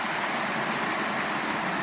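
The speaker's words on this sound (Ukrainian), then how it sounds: "Це ось річка Ірпінь." The Irpin river flowing past the remaining wall of an old mill in a village, a steady broadband rush of water close by with no voices.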